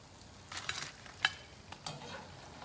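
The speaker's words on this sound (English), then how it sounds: "you can hear by me putting them on the platter how crispy they are" A few crisp, brittle clatters as freshly fried tortilla chips are dropped onto a platter, separated by short quiet gaps, close and fairly soft.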